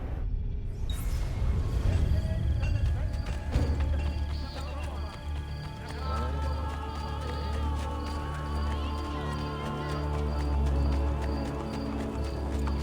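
Horse galloping in Assassin's Creed: Brotherhood, a steady clip-clop of hooves running on and on over rumbling in-game ambience and music, moderately loud and unbroken.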